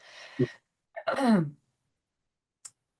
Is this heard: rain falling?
no